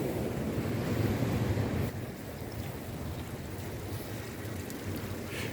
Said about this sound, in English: So they're just filling the water up so it gets over it, vice versa.